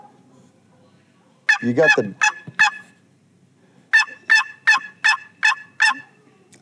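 A Quaker Boy turkey call imitates a turkey's gobbles and yelps in sharp rhythmic bursts, first a rough rolling gobble, then a steady string of six evenly spaced clucks, close and clear, with a brief spoken aside.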